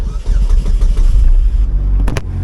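Opel Speedster engine cranking and firing up close by, a loud rough churning that settles into a lumpy idle, followed by a couple of sharp knocks near the end.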